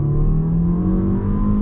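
A Fiat Toro Ultra 1.3 turbo T270 pickup, set in sport mode with traction control off, pulls away hard, its engine note droning steadily and climbing gradually, loud and close from start to finish.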